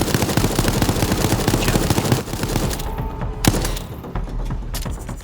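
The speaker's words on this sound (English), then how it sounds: "Get the machine gun turret down, might shoot one of them." Machine gun turret firing in Resident Evil Resistance: a loud, rapid, sustained burst of automatic fire that thins into scattered shots and thuds, close and dominant throughout.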